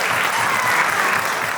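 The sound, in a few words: audience applause at fundraiser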